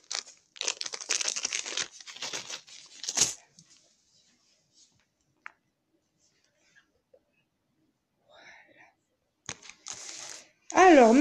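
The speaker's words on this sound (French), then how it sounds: "Si j'arrive à défaire le papier." Paper wrapping around a shipment of artificial flowers being pulled open, giving bursts of crinkling and rustling in the first few seconds, a quiet gap with small ticks, then more rustling and a louder scrape at the end.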